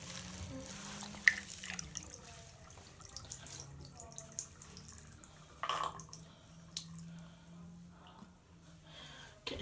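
Enclosure parts for a large mantis setup are washed under a running tap, a faint, continuous water flow with scattered drips and clunks of items being handled, while a person talks over it.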